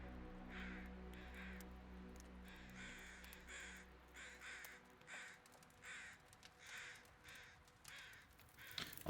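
Crows caw in the snowy wilderness of the survival game The Long Dark, a series of several calls spaced out over a low steady hum, fairly faint and distant.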